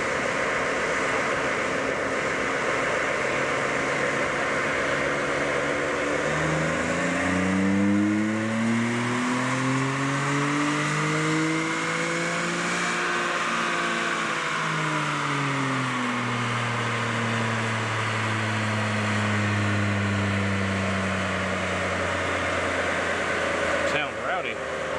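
A car revs through a dyno pull in a workshop: a steady engine drone climbs in pitch over several seconds, peaks, then falls back and settles into a lower hum. The engine is loud and close throughout, and no one speaks.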